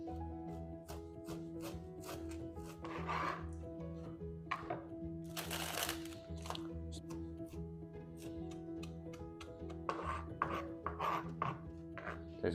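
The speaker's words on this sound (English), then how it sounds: "Cue my chopping up some vegetable montage." Vegetables, potatoes among them, being chopped on a kitchen board, a run of irregular knife thunks and cracks sounding close over a steady background hum with no talk.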